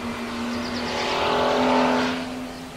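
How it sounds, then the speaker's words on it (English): A classic Jaguar XK120 drives in a classic car rally, its engine holding a steady droning note that grows louder as it nears and passes, then fades slightly away. "This XK120 completed the Alpine Rally 37 years ago and is still going strong."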